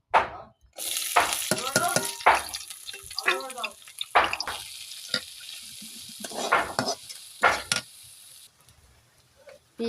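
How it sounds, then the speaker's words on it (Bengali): Onions sizzle in a frying pan and are stirred now and then, a steady hiss broken by scraping, while a person talks over the cooking. "পেঁয়াজটা নরম করে ভাজা হয়ে গেছে"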